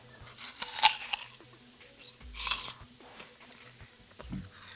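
Someone bites into an apple and chews it close to the microphone, three crisp crunching bursts separated by quieter chewing, with faint game sounds underneath.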